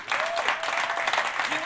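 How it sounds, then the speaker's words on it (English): Audience applause at a startup event, sustained dense clapping from a sizable crowd with some voices audible over it. "I think we have to give him a round of applause."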